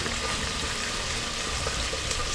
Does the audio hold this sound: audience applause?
no